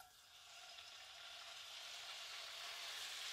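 Chicken breasts fry in hot oil in a wok with a steady, close, broadband sizzle that grows slightly louder and has no talking.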